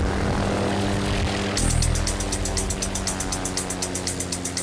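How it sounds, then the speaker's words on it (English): Propeller aircraft engines drone in Microsoft Flight Simulator, a steady hum that shifts at mid-clip into a louder, pulsing engine note with rapid regular throbs, with no talking. "Look at the planes in the background and the helicopter."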